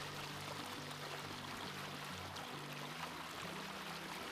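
A waterfall beside the Franconia Ridge hiking trail gives off a faint, continuous rushing hiss of flowing water, steady and distant with no voices.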